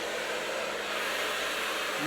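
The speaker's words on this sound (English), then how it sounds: "Use your blow dryer to help you sort of maneuver going back and forth." A blow dryer drying long hair runs as a loud, steady, close rushing whoosh through the whole stretch, with no talking.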